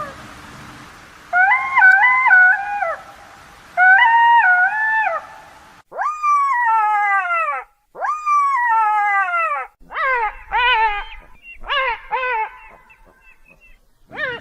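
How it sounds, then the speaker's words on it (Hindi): A jackal howls loudly in a series of long, wavering wails, then rising yelps and shorter broken cries, each separated by brief gaps, close and clear against silence. "सियार अब पहले से भी अधिक जोर से चिल्लाने लगा"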